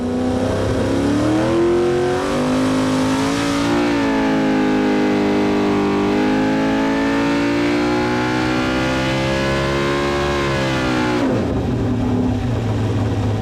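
A naturally aspirated 440ci LS V8 of about 900 horsepower in a Camaro revs hard and close, rising to a high howling wail, dipping and climbing again, then dropping abruptly to a lower burbling note near the end.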